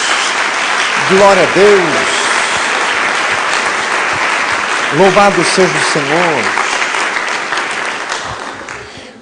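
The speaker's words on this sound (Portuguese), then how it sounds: "Dê uma salva de palmas a Jesus" A church congregation claps steadily throughout, a dense, sustained patter heard under a preacher's loud amplified voice speaking in short exclamations.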